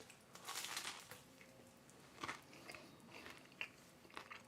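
Someone bites into a crunchy sandwich and chews it, with sharp crackling crunches close to the mic, a burst of crisp bites early and then scattered crunches as the chewing continues.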